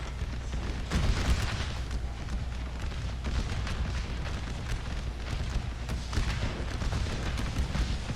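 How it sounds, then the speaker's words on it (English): Artillery fire support in a battle game at Little Round Top: dull booms and crackling blasts roll on continuously through a heavy, rumbling din, with no talk. "Let's get some artillery support."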